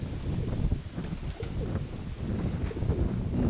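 Pigeons trained for endurance flying coo softly from nearby, low murmuring calls repeating under light wind noise on the microphone.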